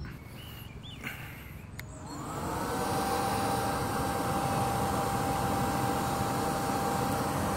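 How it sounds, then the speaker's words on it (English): An air blower feeding a blacksmith's forge to heat stock, starting after a couple of soft clanks and then settling into a loud, steady whoosh with a faint tonal whine. No one speaks. "We'll get some air on it and we'll try heating it up."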